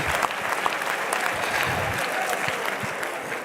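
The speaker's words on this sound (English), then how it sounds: "Let's clap hands for our Polish brother who did the utmost for Poland and for Hungary as well." Audience applause at the PES Election Congress 2024, a dense and steady burst of clapping from a large hall crowd, sustained for several seconds with no one speaking over it.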